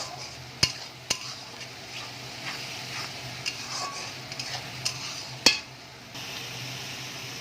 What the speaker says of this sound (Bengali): এখানে আমি পেঁয়াজ আর আদা রসুন একসাথে পেস্ট করে রেখেছিলাম, এটা আমি দিয়ে দিলাম। ভালো করে একটু কাঁচা গন্ধটা যাওয়া অবধি একটু নাড়িয়ে নেব।